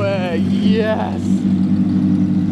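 A straight-piped first-generation Lamborghini Murcielago idles loudly and up close with a steady deep rumble. Voices talk over it.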